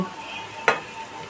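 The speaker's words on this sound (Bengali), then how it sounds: "খুব ভালো মতো ফ্রাইং প্যানটা গরম হয়ে যাওয়ার পর আমি আঁচ কমিয়ে পকোড়াগুলো দিয়েছি" Onion pakoras fry over low heat in a frying pan with a soft, steady sizzle, broken once by a single sharp clink of a utensil.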